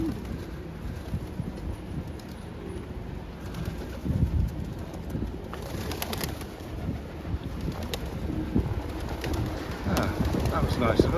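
Pigeons coo and flutter close around a person walking in Brighton, soft low cooing repeated under steady outdoor background noise and faint voices.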